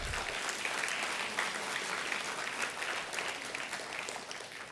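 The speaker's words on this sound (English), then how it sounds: "A little louder applause for the jury." Sustained applause from an audience at a school awards ceremony, clapping for the jury, steady and dense throughout with no pauses and no voices over it.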